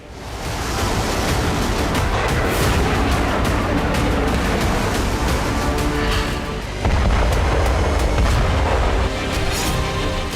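A missile strike hits a Ukrainian weapons depot and sets fire to the surrounding area, producing a loud, sustained roar with rumbling blast bursts and a sudden surge partway through, with no voices.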